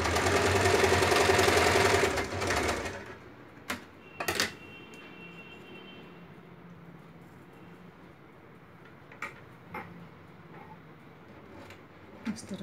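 A sewing machine runs a double line of stitching on a kali salwar, a steady loud mechanical whir for about three seconds, then stops, leaving a quiet room broken by a few short clicks and taps.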